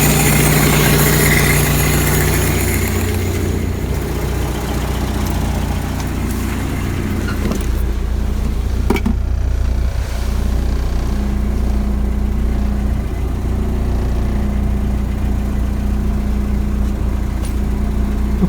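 A 1985 Toyota pickup engine idles after an intake cleaner treatment, giving a loud, steady low rumble that runs continuously and close up with no talk.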